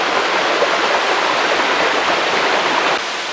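A waterfall in Bohol, Philippines roars as a steady, loud, full-bodied rush of falling water. It sounds close and continuous, easing slightly near the end, with no voices.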